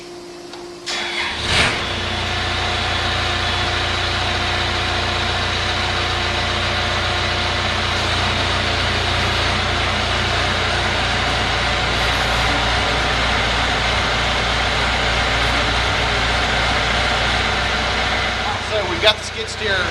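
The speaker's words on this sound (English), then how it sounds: "got the skid steer cranked and we're sending fluid to our attachment" A skid steer loader engine runs steadily with its auxiliary hydraulics driving a concrete pump attachment, a constant mid-pitched drone with a whining hydraulic tone that holds for most of the span after a short startup burst.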